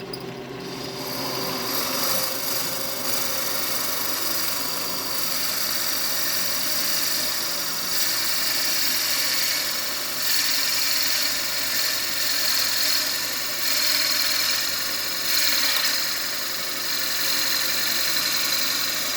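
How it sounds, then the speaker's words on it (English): A steady power tool drones continuously for a long stretch, a constant motor hum with grinding texture as a Forstner bit bores slowly into wood. "an actual Fostner bit works better to drill the hole, so we're going to drill."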